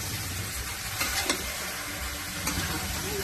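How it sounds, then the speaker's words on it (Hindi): Food for Bihari meat-and-rice roasts and is stirred in a pan with a constant, close sizzling hiss, broken now and then by soft scrapes from the stirring, and no voices. "ये हम भूज रहली है बढ़िया"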